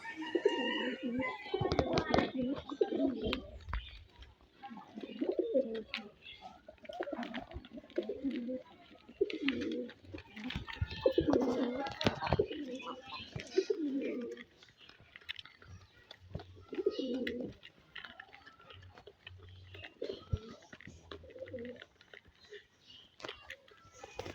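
Pigeons on a small pigeon farm coo repeatedly in low, throaty bursts while feeding in a row, close by, with soft pecking and scratching sounds mixed in.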